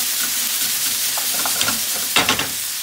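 Ground turkey sizzling and frying in a pan for a Thai curry, a steady crackling hiss with a few louder stirring scrapes near the end, close and continuous with no talking.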